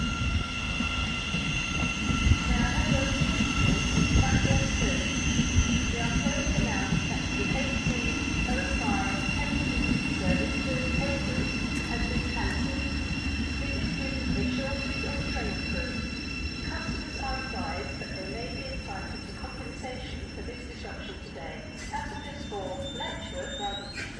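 Train passing through Hitchin station on the East Coast Main Line, a steady low rumble and rolling rail noise lasting throughout, fairly close, with a faint high whine and occasional voices in the background.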